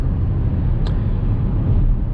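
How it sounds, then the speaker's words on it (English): A steady rush of wind with deep road rumble fills the cabin of a 2019 Škoda Kodiaq RS SUV on winter tires while it is driven, continuous and even throughout with no voices. "There is wind noise."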